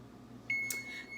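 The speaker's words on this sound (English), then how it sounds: "The timer is beeping" A kitchen timer goes off while a cake bakes, giving a single short, thin electronic beep over a low background hum.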